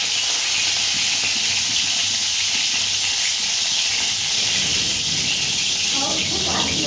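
Tangra fish frying in a pan at home, giving a steady, loud sizzle and steam hiss that runs unbroken throughout, with faint talk somewhere beneath it.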